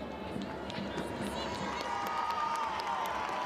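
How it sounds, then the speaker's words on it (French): Home supporters of Olympique Lyonnais in a stadium at a women's football final against Paris Saint-Germain, a broad, continuous roar of crowd noise and cheering, distant and steady beneath a commentator's voice. "applaudi aussitôt par son public lyonnais"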